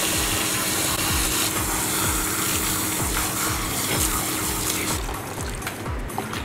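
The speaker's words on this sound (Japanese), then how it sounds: "ちょっとお湯をためます" Hot water runs steadily into a basin at a hair salon, a dense continuous rushing that stays loud and close throughout.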